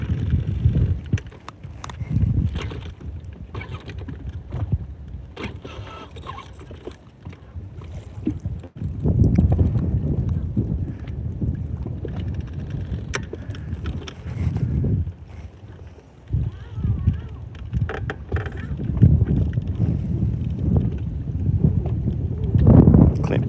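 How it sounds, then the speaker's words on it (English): Gusty wind buffets the microphone on open water during bass fishing from a boat, rising and falling in loud rushes with calmer moments between; faint voice traces sit underneath. "Perry says wind isn't that bad"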